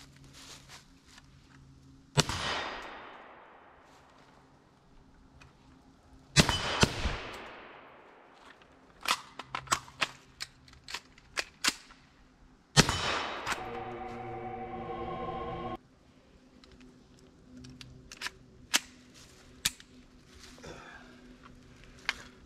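Sharp, loud rifle shots from a PSA KS47, several spaced reports plus a quick cluster of shots with ringing metallic echoes and clinks between, outdoors at a range.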